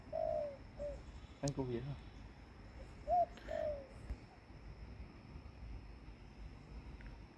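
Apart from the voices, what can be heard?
bird on a fence, pigeon cooing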